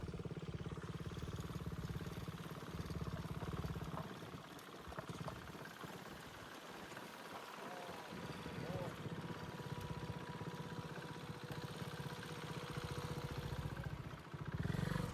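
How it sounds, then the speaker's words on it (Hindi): A group of motorcycles idles together as riders park them in a row at a mountain destination, a steady low engine rumble running throughout with a brief rise near the end. "अब हम सब अपनी बाइक्स एक लाइन में पार्क कर रहे हैं।"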